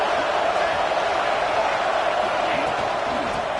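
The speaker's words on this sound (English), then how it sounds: "the crowd really making some noise now" Stadium crowd at a college football game roaring in a steady, dense wash of cheering as the defense holds near the goal line, loud and sustained with no break.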